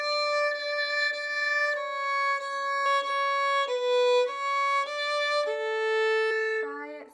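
A violin plays a slow French folk song melody alone, with clear sustained bowed notes changing one by one in a simple stepwise tune, close and fairly loud.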